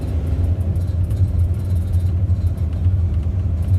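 A steady, low engine rumble runs without a break, close and fairly loud, with a slight wavering throb and no voices.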